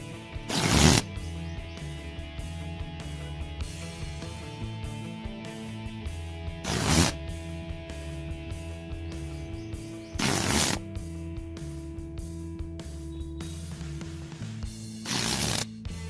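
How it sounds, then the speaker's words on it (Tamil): Old saree cloth ripped into long strips by hand: four short, loud tearing bursts spaced several seconds apart over a quiet, faintly humming room background, with no speech. "இப்படி கையிலேயே நம்ம கிழிச்சு எடுத்துக்கலாம்."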